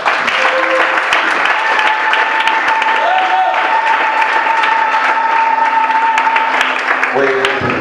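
Applause at a wedding blessing as the bride's father and brother are called forward; sustained clapping from the congregation with music tones ringing through and voices mixed in.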